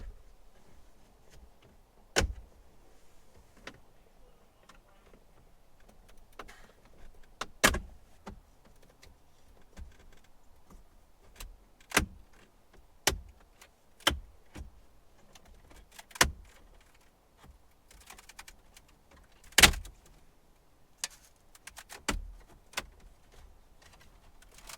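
Plastic kick panel being pried off inside a Jeep JL/JT cabin: a scattered series of sharp, close clicks and snaps at irregular intervals, with quiet handling rustle between them and no talking.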